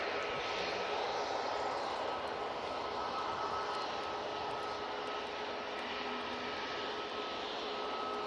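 A passenger airliner arriving from Frankfurt at Manchester Airport gives a steady, moderately loud broadband engine roar with a faint tonal whine, holding even throughout, with no voices.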